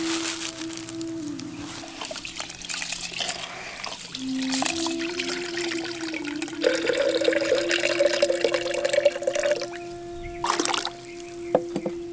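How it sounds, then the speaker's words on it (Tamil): Water poured over split horse gram in a vessel to wash it, a trickling, splashing pour that grows stronger midway and then tapers, with a steady hum in the background. "உடைச்சு எடுத்த கொள்ளு பருப்பை தண்ணி ஊற்றி அரிச்சு எடுத்துக்கலாம்"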